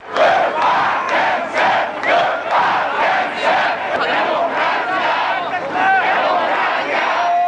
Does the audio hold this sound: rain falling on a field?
no